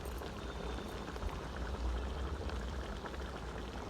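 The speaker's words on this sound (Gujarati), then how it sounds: "આ મસ્ત જોરદાર વઘાર ઊંધિયા પર ઉમેરવાનો." Hot sesame and hing tempering poured over undhiyu, a soft continuous crackling fizz, fairly quiet and steady throughout.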